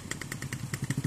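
A motorcycle engine runs nearby on the way to a waterfall in Ciamis, a rough, pulsing putter with regular thumping beats throughout.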